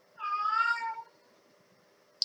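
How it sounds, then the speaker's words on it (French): A cat in heat gives one drawn-out, wavering meow close by, followed by quiet and a tiny click at the end. "je suis désolée pour les miaulements, c'est juste que mes chats sont en période de chaleur"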